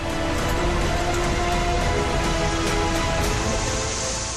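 Heavy monsoon rain pours down in northern India, a dense, unbroken hiss of falling water that stays loud and even throughout, with no voices.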